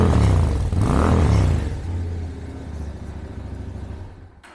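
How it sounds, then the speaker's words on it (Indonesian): An SM Sport V16 V-twin motorcycle on its standard exhaust, miked close: a loud rumbling rev that swells and falls, then a steadier, quieter idle with a thumping pulse. "ini memang khas sekali engine V-twin"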